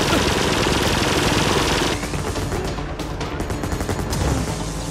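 An automated turret in the video game Firefall lets loose loud, rapid, continuous gunfire that dominates throughout and eases only slightly partway through.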